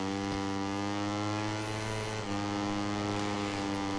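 Upgraded KTM MotoGP racing motorcycle engine in the MotoGP 20 video game on a Finnish circuit, a sustained, loud, steady drone with a brief dip near the middle, no talking.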